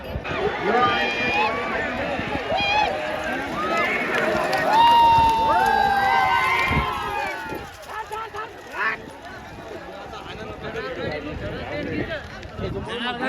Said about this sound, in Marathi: पुरुष आणि तरुण ओरडत आहेत, जल्लोष करत आहेत